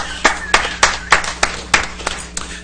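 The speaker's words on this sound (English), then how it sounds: "I applaud you folks" Hand clapping in a city council meeting room, about eight sharp, evenly spaced claps, near and distinct rather than a full swell of applause.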